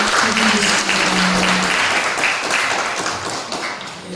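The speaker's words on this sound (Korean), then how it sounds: "축하의 박수 드리겠습니다." Church congregation at a Sunday youth service claps in congratulation, a full, close burst of many hands that runs steadily and tapers slightly toward the end, with some voices mixed in.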